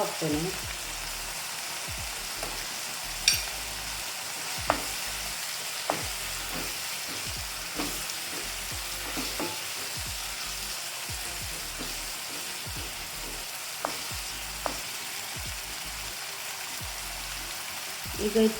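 A tomato rasam base fries in oil in a covered pan, producing a constant close sizzle with scattered soft clicks and occasional taps throughout.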